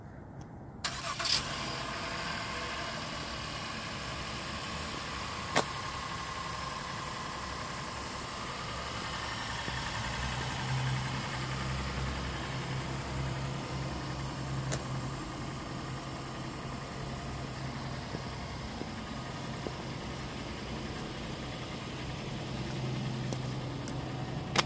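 A 2019 Honda Ridgeline engine turning over on remote start, then settling into a steady, moderately loud idle hum that continues alone for the rest of the stretch.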